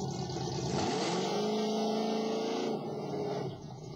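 Car engine with the muffler removed revs loudly and steadily close by, a raw, throaty roar that holds for a few seconds and then eases slightly.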